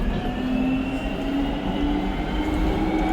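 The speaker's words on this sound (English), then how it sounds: "So this is Angus's first time on the train." Steady rumble of a London Underground train in motion heard from inside a carriage, with a continuous low drone and faint whining tones.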